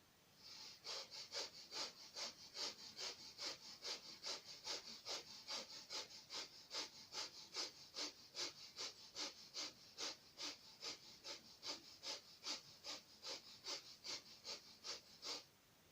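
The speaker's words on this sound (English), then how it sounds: "Okay, I'm breathing fast again." Rapid rhythmic breaths during a yoga and chi kung breathing exercise, about two forceful breaths per second, close and sustained for roughly fifteen seconds with no talking.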